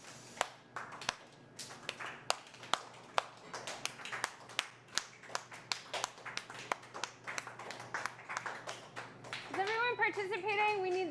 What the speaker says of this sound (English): Okay, we're still clapping.